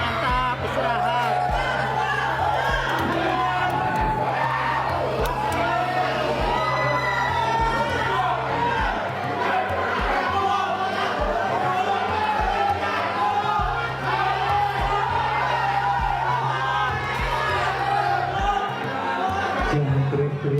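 A loud, dense crowd shouts and cheers continuously outside a courtroom, many voices overlapping in a sustained din with a steady low hum underneath.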